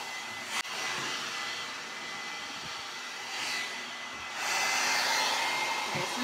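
Hair dryer blowing steadily close by during a blow-dry for silky, straight hair, a continuous loud airy whoosh that swells slightly as it moves, with no talking.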